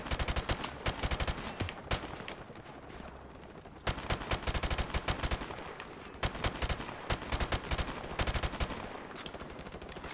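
Rapid bursts of automatic gunfire in Call of Duty: Modern Warfare Remastered, loud and close, with clusters of sharp shots separated by brief lulls across the whole stretch.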